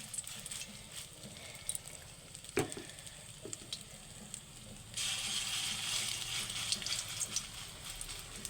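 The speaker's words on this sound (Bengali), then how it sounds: "এবার ডালগুলো দিয়ে বড়ার আকারে ভেজে দিচ্ছি" Khesari lentil paste fritters frying in hot oil in a wok, a steady close sizzle that swells suddenly louder and brighter partway through as more batter hits the oil, with an occasional clink.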